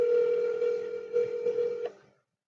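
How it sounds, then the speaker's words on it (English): A telephone line tone plays as a call is placed to the Topps baseball card company from Philadelphia, a steady electronic tone with a few brief clicks and swells, clear and close, ending abruptly after about two seconds. "We're calling Tops from Philadelphia, Pennsylvania, and they're telling us that it's not available"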